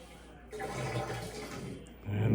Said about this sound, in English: It's gonna initiate a drain cycle first.